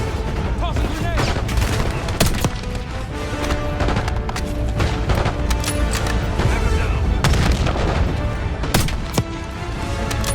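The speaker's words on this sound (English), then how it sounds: "Tossing grenade." Loud, dense Call of Duty: Black Ops firefight with sustained gunfire and repeated explosive booms including a grenade blast, continuous and close throughout.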